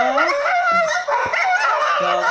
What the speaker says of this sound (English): Dog sound is bark.